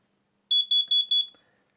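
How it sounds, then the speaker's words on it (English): A carbon monoxide alarm with an 85-decibel sounder gives a test signal after its test button is pressed: four sharp, loud, high-pitched beeps in quick even rhythm, close by, then silence. "it emits one alarm, and that indicates that the alarm is working perfectly"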